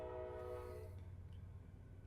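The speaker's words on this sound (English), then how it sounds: "can you hear that? That was a train on your end?" A train horn blares loud and close for about a second, then the low rumble of the passing train carries on alone.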